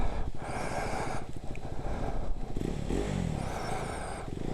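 A KTM motorcycle engine revs and drones nearby with a rough, buzzing note, surging and dipping through the whole stretch amid some clatter, with no voices.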